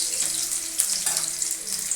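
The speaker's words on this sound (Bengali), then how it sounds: "রসুনটা একটু ভালোভাবে ভাজতে হবে।" Chopped garlic frying in hot mustard oil in a wok, a steady bright hiss and crackle with small pops, close and continuous, with no voices.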